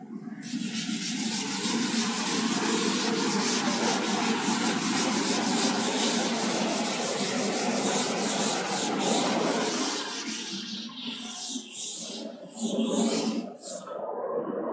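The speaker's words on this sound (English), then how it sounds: "Okay, now I am rubbing." Steady, close hand rubbing on paper, a dense dry scratchy friction that runs continuously for most of the stretch before breaking into shorter, uneven strokes near the end; no one speaks.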